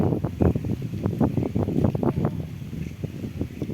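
Gusty wind buffets the microphone in uneven low rumbling bursts, loud and close, with a faint rustle of leaves behind it.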